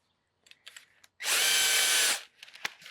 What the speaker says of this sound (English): we had this extra blender attachment, so I just chuck it into the drill